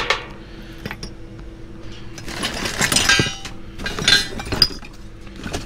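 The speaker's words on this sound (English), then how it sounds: "Lots of broken glass." Broken glass clinks and rattles while someone digs through a GameStop store dumpster, with scattered sharp chinks building to louder clusters of shards knocking together at close range.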